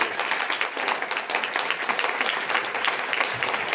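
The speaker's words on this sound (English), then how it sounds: "I want a round of applause." A summit audience gives a dense, steady round of applause, heard from within the room and continuing without pause.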